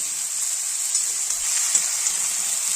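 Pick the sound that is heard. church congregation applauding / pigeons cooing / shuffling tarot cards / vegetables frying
vegetables frying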